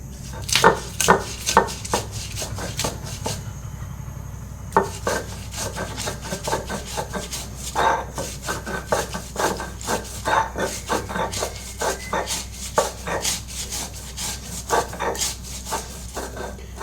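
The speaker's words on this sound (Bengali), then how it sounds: "এই লঙ্কার সাথে পোস্তটা পিষে নেবো" Small chillies are ground together with poppy seeds on a stone grinding slab, a steady run of scraping rubs repeating in an even rhythm, close and fairly quiet, with no talking.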